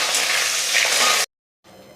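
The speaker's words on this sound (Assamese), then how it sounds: "আৰু এতিয়া মই প্ৰথমতে আলুখিনি ভাজি ল'ম অলপ" Potatoes frying in hot oil give a loud, bright sizzle for over a second, then it cuts out and resumes more faintly after a short silence.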